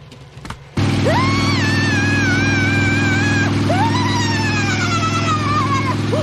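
A motorcycle engine roars to life and holds a steady loud drone, with a rising, wavering high-pitched scream over it.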